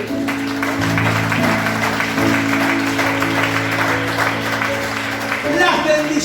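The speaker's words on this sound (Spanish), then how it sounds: "Denle un aplauso a Dios." A church congregation claps together in sustained, dense applause over steady background music, with a shift in the music near the end.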